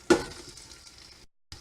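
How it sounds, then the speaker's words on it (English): Onions tossed into a hot frying pan give a sudden loud sizzle that settles into a steady frying hiss, with a brief scrape of a wooden spatula and a short gap near the end. "Hear the sizzle."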